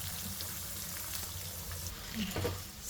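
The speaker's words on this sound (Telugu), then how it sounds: "ఈ కొబ్బరి కూడా బాగా వేగాలి ఇదే ఆయిల్లో మొత్తం వేయండి" Grated coconut frying in oil for Tirumala-style coconut chutney, giving a soft, steady sizzle close by with light scraping and a brief louder burst near the end.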